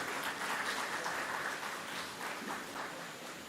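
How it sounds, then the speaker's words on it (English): An audience at a Divali dinner and cultural event in Mayaro gives event staff a round of applause, a dense, steady wash of clapping that holds throughout and tapers slightly at the end. "Let's give our members of staff a round of applause"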